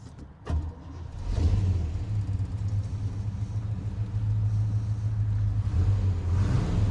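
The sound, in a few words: Chevy Bel Air 327 V8 engine starting and running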